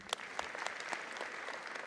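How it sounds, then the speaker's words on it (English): A crowd at a graduation ceremony gives a quiet, steady round of applause for the chief guest, a soft continuous patter of clapping heard from a distance, with a few sharper individual claps standing out. "A round of applause for him."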